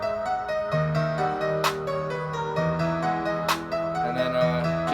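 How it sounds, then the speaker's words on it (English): A simple clap sample hits twice over a looping acoustic piano and pad beat in Studio One, sharp bright snaps sitting on top of the steady chords with no speech. "And I got a simple clap to go with it."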